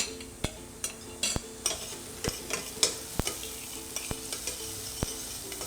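Onion sweating in a pan while being stirred, with a soft continuous sizzle broken by regular sharp clacks of a utensil against the pan, close and without talk.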